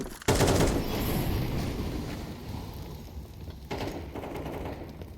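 Gunfire and utility noise from a professional Counter-Strike 2 match on the map Vertigo, heard as a sharp onset followed by dense, rumbling, wind-like bursts of shots and effects, with a second burst near the end, and no talking.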